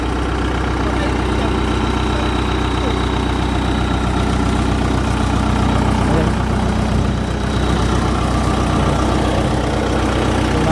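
A heavy machine engine idles at a construction site with a boom truck nearby, a loud, steady low rumble running throughout while people talk over it.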